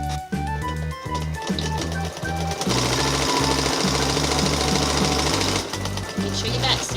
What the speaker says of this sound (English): we're going to sew closed this opening that we left to thread the elastic through